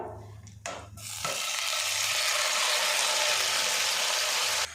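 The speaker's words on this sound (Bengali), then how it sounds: "এবার এই পাকুড়ি উল্টে পাল্টে কিছুক্ষণ ভাজা ভাজা করে নেব" A spiced green tomato mixture frying in mustard oil in a pan gives a loud, steady sizzle after a few brief stirring knocks, hissing continuously without any talk.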